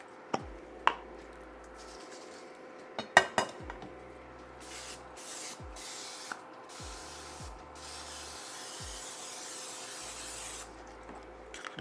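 Cooking spray hisses from an aerosol can in several short and longer bursts as a baking pan is greased for a green bean casserole, with sharp clinks and taps of the can and pan between sprays.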